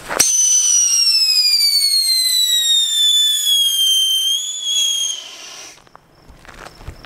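A whistling firework screams loudly for several seconds with a long, slowly falling shriek, then cuts off into faint crackles and pops.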